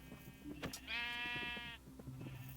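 Sheep in the Minecraft video game give one short, quavering, buzzy bleat, clear but fairly quiet, over a faint background of soft game sounds and clicks.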